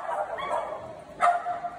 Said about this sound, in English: Why did you bark at me?